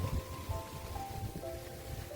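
Rain falls steadily during the rainy season, a continuous soft patter on surfaces with no talk, while faint tonal hums run in the background.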